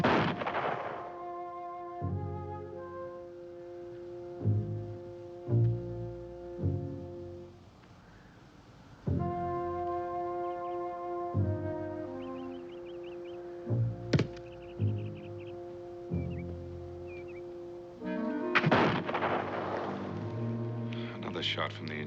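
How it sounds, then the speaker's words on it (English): A gun goes off in a frontier-era television drama, with one sharp report at mid-clip and a louder blast near the end, set against sustained orchestral music and some dialogue. "Another shot from the Enchanted gun."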